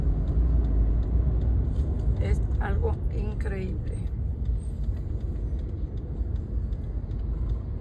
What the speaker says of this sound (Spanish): Hay un tráfico de locura.